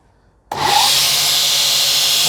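A belt sander with a worn 36-grit ceramic abrasive starts up and grinds against a Damascus steel blade, a sudden loud onset settling into a steady close rasping whir.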